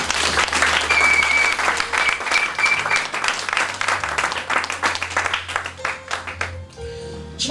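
A church congregation applauding the Lord, loud sustained clapping from a crowd filling the room, with some voices and a held musical tone underneath, tapering near the end.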